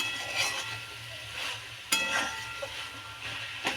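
Grated coconut being stir-fried and scraped in a pan for pitha, a soft steady sizzle with intermittent spatula scrapes and a sharper clack near the middle, with no talking.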